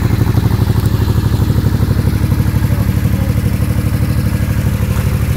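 A Suzuki Intruder M800 trike engine running close up, a loud, steady, rapid thumping idle with even pulses throughout and mechanical clatter, no voices.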